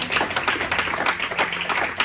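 A church congregation applauding during a Sunday service, dense steady clapping from many hands filling the room for a couple of seconds.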